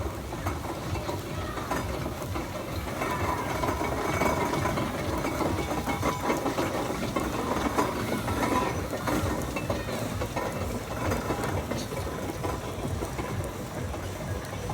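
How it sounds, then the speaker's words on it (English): A Burrell general-purpose steam traction engine runs nearby in a steam rally parade with a steady, rumbling chug and mechanical clatter that carries on without a break. "so a general purpose engine"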